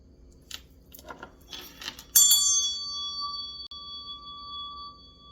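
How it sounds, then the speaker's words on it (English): A single bright bell strike rings out after some faint rustling, its clear tone sustaining and slowly fading over several seconds. "I'm going to ring my meditation bell."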